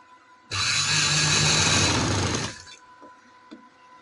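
A sewing machine stitches trouser fabric in a single loud, steady run of about two seconds, then stops, leaving faint clicks and handling noise.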